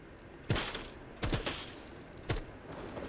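Three sharp gunshots ring out in Rainbow Six Siege, spaced about a second apart over a low hum of game ambience, each crack loud and close with a short tail.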